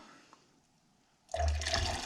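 Water pours into a container of dark iced tea to thin it, starting abruptly after a quiet moment as a close, loud, splashing gush that continues steadily to the end.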